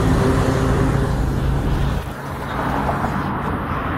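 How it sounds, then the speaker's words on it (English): Traffic on a road: a steady, broad rumble of cars going by nearby, loudest early on, then dipping briefly before settling back to a constant roadway hum. "Sorry for the traffic noise."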